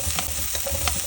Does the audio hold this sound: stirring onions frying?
yes